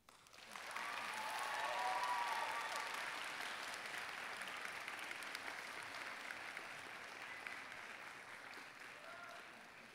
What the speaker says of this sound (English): I would ask that you applaud your parents and family and show your gratitude for their guidance